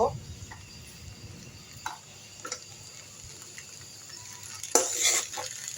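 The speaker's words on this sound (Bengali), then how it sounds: "ভালোভাবে এইভাবে মিশাবো" Noodles are stirred in a pan, with quiet intermittent scraping and a few soft utensil clicks over faint background sizzle, and a louder scrape near the end.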